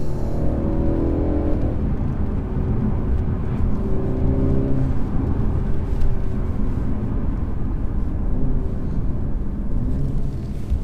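2017 Mercedes E300 on the move, a steady close-up engine hum and road roar from inside the cabin with a few rising and falling tones as it accelerates.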